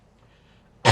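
After near silence, a single short, harsh cough bursts out loudly and close at the very end.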